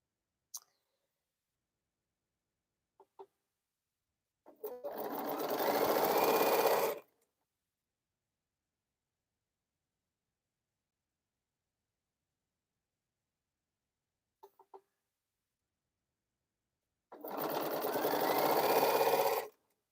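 A sewing machine stitches quilt pieces in two separate bursts of about two seconds each. Each run is loud and close, set apart by long silences and a few faint clicks of handling.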